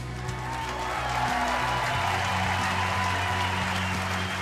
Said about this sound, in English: please join us as we salute and applaud one of the greatest athletes to ever have called Michigan home